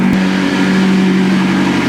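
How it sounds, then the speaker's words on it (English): A McLaren sports car engine warms up at a steady mid-pitched idle in light rain, close and constant for the whole stretch with a faint hiss layered over it. "my car is nowhere near done warming up"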